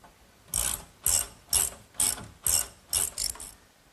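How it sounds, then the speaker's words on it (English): A ratchet tightening a nut onto a washer in a woodworking shop, heard as seven crisp, evenly spaced clicking bursts close by, each about half a second apart. "Now a washer and a nut. Tighten it down, and I'll do the same thing to the other three connections."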